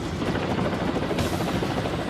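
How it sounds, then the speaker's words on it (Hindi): A Kamov Ka-27M anti-submarine helicopter flies over the sea, heard as a dense, continuous rotor chop with steady broadband roar, loud throughout. "समंदर के ऊपर आसमान में कैमोव का 27M एंटी सबमरीन हेलीकॉप्टर दिख रहा है।"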